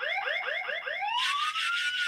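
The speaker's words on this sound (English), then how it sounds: "Always good to cover a failed mix with a bit of air horn." A sound-effect horn fired from an interactive DJ surface, a rapid series of rising whooping siren-like sweeps that end in one long, loud, bright blast.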